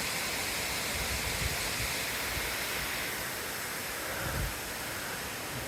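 A waterfall on a steep 45-degree wooded slope gives off a steady, faint broadband rush of falling water, continuous and distant, with no voices.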